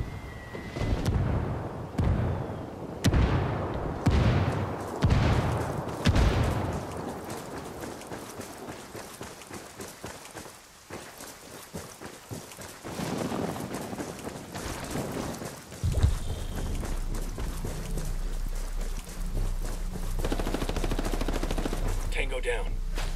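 Gunfire in the video game Tom Clancy's Ghost Recon during a multiplayer match: loud sharp bursts and rapid automatic shots repeat through the first stretch, then sparser cracks over a steady low rumble, with occasional voices.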